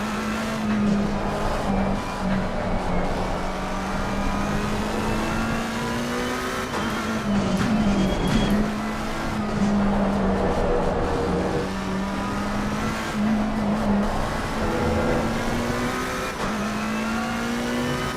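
Race cars lapping the Nurburgring GP circuit in the racing game Assetto Corsa Competizione: a loud, steady engine drone rising and falling through gear changes, with other cars roaring past and occasional tire noise, no talk.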